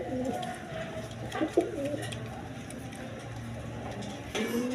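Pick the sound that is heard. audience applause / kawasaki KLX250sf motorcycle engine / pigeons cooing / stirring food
pigeons cooing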